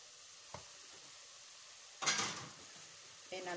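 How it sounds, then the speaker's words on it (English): Beef fries in a pan with ginger, cinnamon, garlic and thyme as it is stirred. A quiet, steady sizzle is broken by a few short, louder bursts of stirring and scraping. "my beef is cooking and I'll continue mixing it very well"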